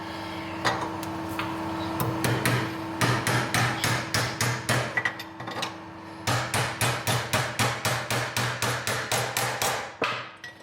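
A hammer drives 2mm bullet head nails in a workshop: two runs of rapid, evenly spaced sharp blows, loud and close, with a short pause between runs and a faint machine hum underneath.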